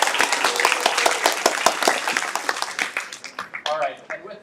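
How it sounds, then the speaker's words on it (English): Audience applause fills a presentation night for student projects, a dense, steady patter of many hands clapping close by that thins out toward the end. "Let's give one more round of applause to our"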